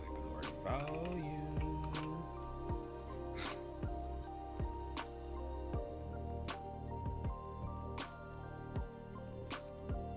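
Keystrokes on a computer keyboard as a word is typed into a trading chart's indicator search, a run of light clicks spread irregularly over a steady background hum, fairly close and moderate in level, with no talking.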